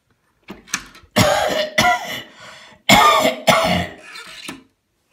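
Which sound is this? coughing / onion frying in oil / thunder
coughing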